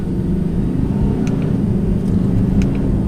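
A 2020 Audi R8 V10 Quattro engine rumbles under light throttle, a steady, loud, deep drone from inside the car with a few faint higher tones over it.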